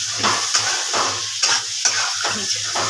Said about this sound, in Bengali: বেশ জম্পেশ ভাজা হচ్ছে